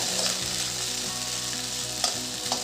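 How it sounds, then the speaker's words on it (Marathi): Soaked sago pearls sautéed in ghee in a pan for sweet sabudana khichdi, a steady close sizzle and fry with scraping stir strokes, no voices. "साबुदाणा छान परतून घेऊ आपण तुपात"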